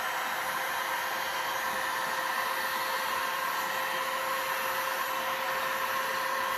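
A heat gun blows a steady, even roar of hot air across resin in a mold for a pink, grey and white marble-look tray, continuous and close with no talking.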